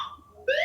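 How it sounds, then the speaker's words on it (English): Fire alarm sounding in the background of a live broadcast: a fading electronic tone, a brief near-silent gap, then a louder, sharper beep that holds to the end. "we got a fire alarm happening"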